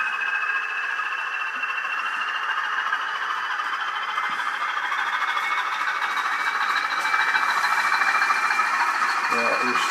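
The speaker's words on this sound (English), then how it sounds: "So if I bring these trains round now" Model trains run around a track with a continuous whirring motor hum and faint wheel clatter, steady and close throughout, with no talk over it.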